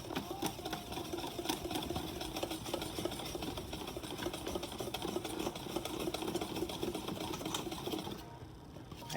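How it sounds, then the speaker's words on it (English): A whisk stirs dry cake ingredients for a lemon cake in a bowl, giving a continuous soft, rapid scratching and ticking that carries on evenly at low volume until it stops near the end. "Here, I'm gonna whisk it."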